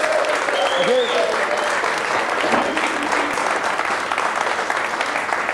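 Studio audience clapping for comedian Gary Skyner on a radio show, a steady wash of applause with a voice speaking briefly over it near the start.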